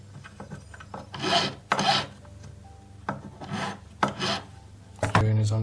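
Close, repeated rasping strokes of a tool rubbed around a metal claw to press it down onto the stone of a crossover solitaire ring, in irregular bursts with no talking.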